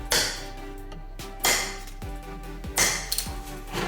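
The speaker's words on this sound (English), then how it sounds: "I grabbed my claw hammer." Claw hammer striking a steel transfer punch set in a hole on an Eaton supercharger; three sharp metallic blows spaced about 1.3 seconds apart, close and ringing, with no talk.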